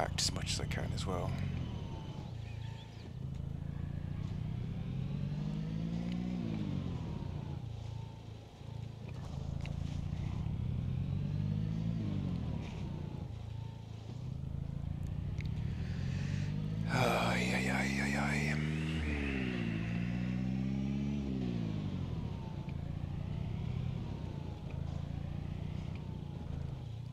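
A car engine in the zombie survival game Project Zomboid revs up and down through repeated gear changes as it drives, rising and falling in pitch. Someone talks over the steady engine drone.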